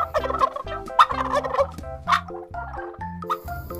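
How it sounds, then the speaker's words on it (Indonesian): A black turkey gobbles in a rapid, warbling series of calls, loud and close, with brief pauses between bursts and no voices over it. "Ini namanya ayam kalkun."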